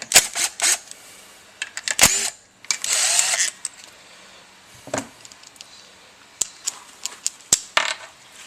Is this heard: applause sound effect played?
no